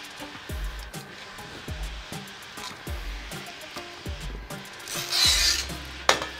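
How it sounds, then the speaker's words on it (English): Cutting string being pulled through vinyl wrap on a wheelchair gives a series of short rasping, rubbing strokes at a steady rhythm, close by, then a longer hissing pull near the end. "So pinch the bleed and pull the string."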